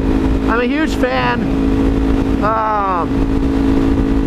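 A car fitted with a new aftermarket exhaust idles with a steady low rumble underneath people talking nearby, the engine droning continuously rather than revving sharply.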